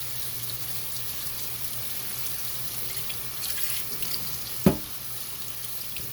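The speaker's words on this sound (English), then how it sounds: "I'm just washing my cutting board." A cutting board is rinsed under a running kitchen tap, a steady faint stream of water with a brief clatter near the end.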